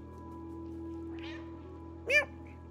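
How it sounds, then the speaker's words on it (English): A cat meows once, short and clear, in the Stray video game, heard over a steady low hum and a soft earlier rustle. "I think B is to meow."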